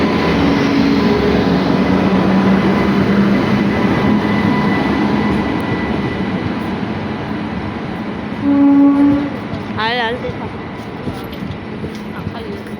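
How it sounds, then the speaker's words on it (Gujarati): A train at a station rolls past with a continuous rumbling, clattering drone, and a brief horn-like tone sounds near the end, while voices carry in the background. "અહીંયા ટ્રેન જોવો"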